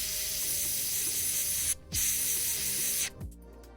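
Spray paint hissing onto the lower edge of a miniature's shoulder in short steady bursts, close and loud, with two brief pauses between sprays and no talking.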